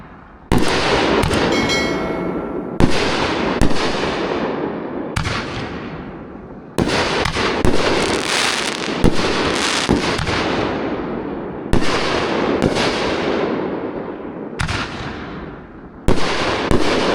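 Redneck Bubba canister shell fireworks from Sunwing: a string of loud, sharp booming bursts, roughly a dozen blasts spaced a second or two apart, each trailing off in a crackling, fading tail, with no voices.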